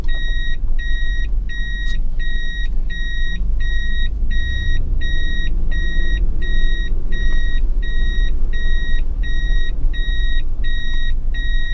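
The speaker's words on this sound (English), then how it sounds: "It's always important with these to make sure that the four-wheel drive's working in reverse and not bouncing, causing problems." A 1999 Toyota Hilux Surf SSR-X with a 3.4-litre V6 reversing in low-range four-wheel drive with the centre differential locked: a steady, even reversing beep over a low, continuous engine rumble.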